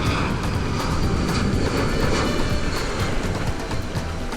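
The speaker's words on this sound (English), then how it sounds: "here comes a JetBlue that's coming in right over them" A JetBlue passenger jet roars low overhead on landing approach near a beach, its engine noise a loud, steady broadband rumble filling the whole stretch.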